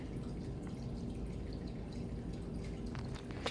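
TAE buffer liquid pours over an agarose gel into a plastic electrophoresis box, a close, continuous trickling and splashing with faint drips that runs unbroken before a small clatter at the end.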